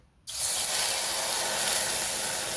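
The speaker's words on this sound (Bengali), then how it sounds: "কড়াতে দিয়ে দেবো জল।" Water poured into a hot wok after frying dried chillies and cumin, erupting suddenly into a loud, steady, close hiss of steam that holds for about two seconds after a brief quiet start.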